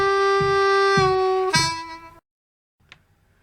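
A blues harmonica plays a blues tune: sustained, reedy draw notes that slide down and back up in pitch bends, then cut off into silence, followed by a faint click.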